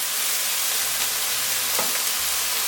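Chicken searing in a pan with chopped white onion and garlic just added, a steady close sizzle and hiss with faint stirring scrapes, no voices.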